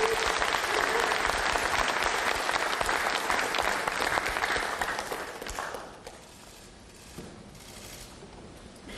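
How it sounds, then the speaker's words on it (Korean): A room of party lawmakers at a caucus meeting applauds to welcome presidential candidate Kim Moon-soo, with dense sustained clapping that fades after about five seconds into a quieter hall with scattered claps. "환영과 격려의 박수 부탁드립니다."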